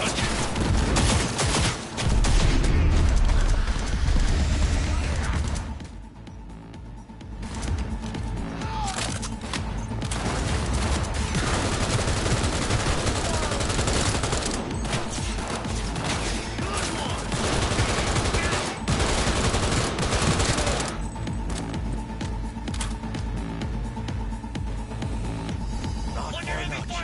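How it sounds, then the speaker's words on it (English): Heavy video game gunfire rattles nearly continuously in dense, loud bursts with crashing impacts and a brief lull, and voices shout beneath the barrage. "Under heavy fire!"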